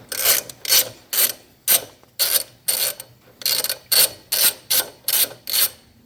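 A wrench ratchets against a nut on a Simplicity lawn tractor during a belt change, giving about eleven close, rasping strokes in a steady rhythm with short pauses between them and no talk.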